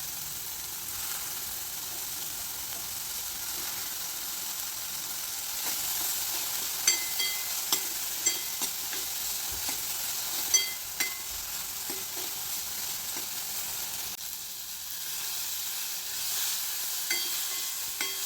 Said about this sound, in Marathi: त्यामध्ये आपण बारीक चिरलेलं टोमॅटो टाकायचं आणि टोमॅटो चांगलं परतून घ्यायचं